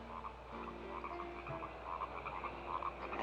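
Frogs croaking in a chorus, continuous rhythmic croaks at a moderate distance, fairly faint, with no talking.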